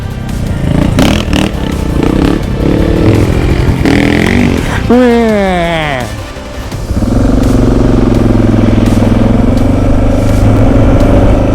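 A loud dual-sport motorcycle engine, DR650, KTM 690 or Honda CRF Rally, revs hard with a rising, buzzing whine, dips briefly, then settles into a steady, close-up drone.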